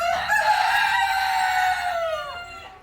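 An Indio Gigante rooster crows loudly and close by in one long, drawn-out call that rises and then trails off, with no other sounds around it.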